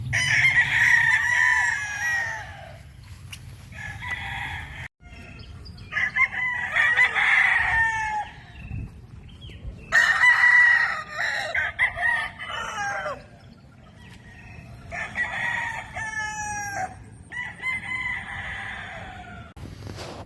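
Gamefowl roosters at a breeding farm crow repeatedly, several long cock-a-doodle-doo calls overlapping and alternating at close range over a steady low background hum, with no talk.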